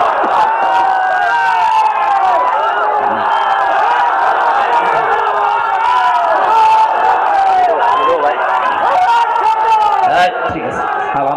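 At a religious sermon, a large crowd chants the takbir together in loud, sustained, overlapping voices that roll on continuously, with a slight drop near the end.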